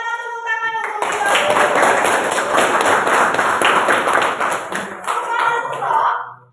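A classroom of students claps together for their teacher in a sustained, dense burst of applause. The clapping is loud and close and fades out at the end, with some voices mixed in.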